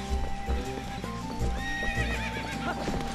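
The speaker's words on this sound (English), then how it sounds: "Get on the horse, get on the horse, get on the horse." Epona, the horse in the video game Twilight Princess, neighs and whinnies over a steady clip-clop of galloping hooves, loud and close against the game's background sounds with no talking.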